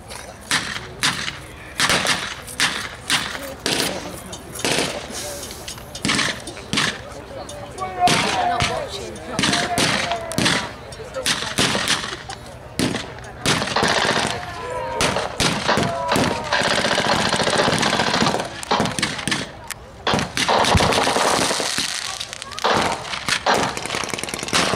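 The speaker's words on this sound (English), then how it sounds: "So they've opened fire on the advancing German troops." Gunfire at an outdoor battle reenactment arena as Allied troops fire on advancing German troops: loud, sharp shots crack in irregular volleys, then thicken into dense, overlapping bursts toward the end.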